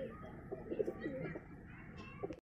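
Soft, low pigeon cooing from a paired male and female domestic pigeon kept at home, the male a dark-billed kalchocha and the female a light jersey, heard as a few quiet murmuring coos over faint background noise.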